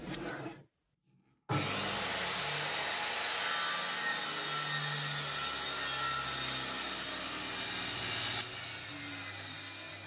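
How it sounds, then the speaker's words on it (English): A circular saw cuts through clamped old barn wood set at a 45-degree angle, a loud continuous whining rasp that runs steadily for about eight seconds after a brief pause, with no talking. "set the angle of the saw to 45 and then the cut was much better"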